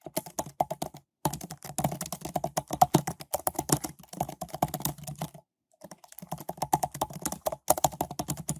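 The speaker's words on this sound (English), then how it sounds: "Sorry, just typing that in there." Rapid keystrokes on a computer keyboard, close and crisp, in bursts of quick irregular taps broken by short pauses, with no talking over them.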